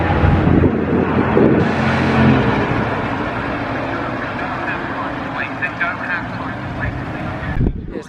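A Dino sports car drives off at the Supercar Pageant 2022 at Oulton Park. Its loud engine rumble starts close and fades as it pulls away, while someone talks over it.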